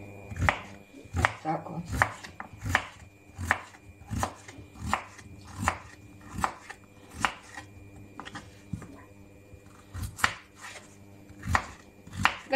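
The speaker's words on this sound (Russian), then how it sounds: "А пока картошечку порежу." Knife chopping potatoes on a cutting board, close and sharp, with steady rhythmic strokes about every half second and a brief spoken remark near the start.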